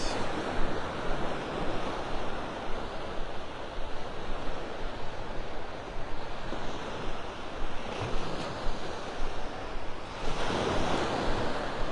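Ocean surf rolls onto the beach at Delnor-Wiggins in North Naples, a steady wash of breaking waves with swelling surges and some wind noise, heard alone without voices.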